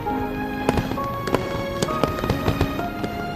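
Fireworks burst in a rapid string of sharp cracks and pops, several bangs per second over a steady hiss, loud and fairly close with no talk.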